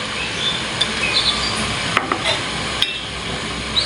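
Chopped onion and green chili frying in a pan while being stirred, giving a steady sizzle punctuated by several sharp utensil scrapes and taps, close and fairly loud, with no talking.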